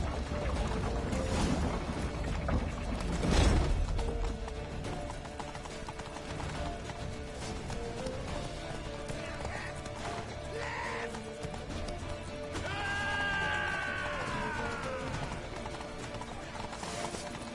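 Rhythmic hoofbeats of a horse clip-clopping at a steady pace, with scattered animal calls and a whinny in a busy soundscape from the video game Sekiro.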